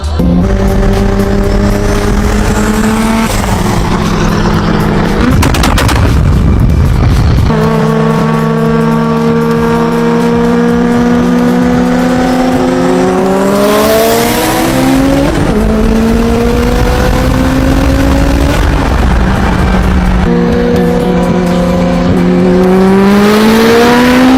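A Toyota Supra street races a 900-horsepower Evo. The engines roar loud and close, climbing through revs with several sharp gear shifts, and there is some tire squeal.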